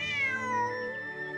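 A cat meows once in the video game Genshin Impact, a single drawn-out, tonal call with falling pitch, close and clear over quiet game ambience.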